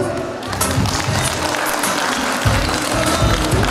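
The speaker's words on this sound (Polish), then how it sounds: "proszę o bardzo, ale to bardzo gorące brawa dla pani" An audience at a makeover show in the Zgorzelec Plaza shopping centre claps warmly for Ms. Marta, a dense, continuous round of applause that swells at times and carries a low rumble of crowd noise underneath.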